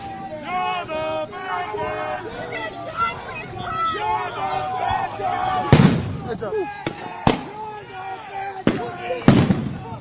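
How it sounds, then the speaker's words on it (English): Flashbang grenades go off at a street protest, several sharp loud bangs cutting through shouting voices and crowd chatter nearby. "More tear gas and flashbangs going off here."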